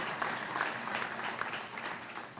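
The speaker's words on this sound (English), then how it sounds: "let's give them a round of applause hosting this event here at this setting" An audience at the annual Varsity Sports Awards gives a round of applause for the host, Florida Citrus Sports, a moderate, steady patter of clapping heard somewhat distantly.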